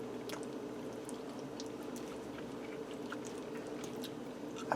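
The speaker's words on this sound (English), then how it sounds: "Let me get in here and try one of these meatballs." Close, soft chewing of a meatball from a cheesy ravioli casserole, with quiet wet mouth sounds and small bites repeating steadily and no talking.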